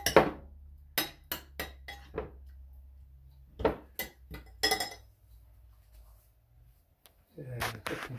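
Scattered clinks and taps of a utensil against a bowl while tomatoes are mashed for bruschetta, irregular knocks in a quiet kitchen with a low hum underneath.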